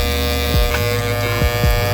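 Inexpensive electric hair clippers fitted with a half guard buzz steadily while tapering a beard at home, a loud continuous motor hum with a few brief dips as the blades pass through hair.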